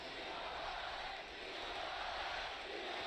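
A crowd cheers in an esports arena, a broad, sustained roar that holds steady for about three seconds.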